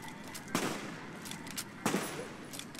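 Boone's rifle firing in Fallout: New Vegas, two sharp loud shots about a second apart over steady game ambience, with no talk.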